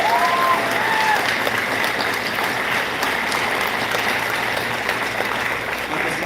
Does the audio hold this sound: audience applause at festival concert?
yes